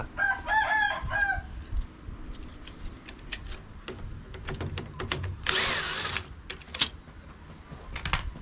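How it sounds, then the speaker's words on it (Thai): A power screwdriver whirs in brief bursts, close by, while the lid lock switch screws of a Hitachi washing machine are removed, and a rooster crows loudly nearby at the start. "ให้ทำการถอดน็อตครับน็อตยึดจะมี 2 ตัวครับซ้ายและขวา"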